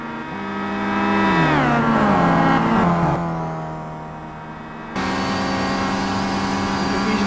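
Racing cars in a WTCC championship race at Zandvoort in the Simraceway video game roar past, engines rising and falling in pitch through gear changes, loud and continuous with an abrupt cut to another car's steady drone.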